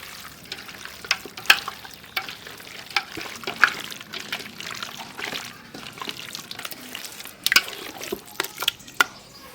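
Chicken pieces being mixed by hand with masala for chicken 65, giving wet, squelchy stirring with scattered sharper clicks and splashes, moderately close and steady, with no talking.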